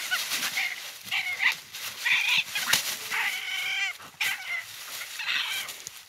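A coonhound bays and yelps at night in repeated short bursts, with several fairly close barks spread across the stretch and a quieter background between them.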